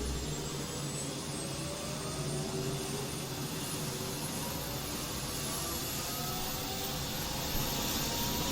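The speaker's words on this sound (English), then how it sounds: "rotors are turning" A steady, continuous turbine whine with a low droning hum from helicopter rotors turning in the X-Plane 12 flight simulator, unchanging throughout, blades spinning at a constant pace.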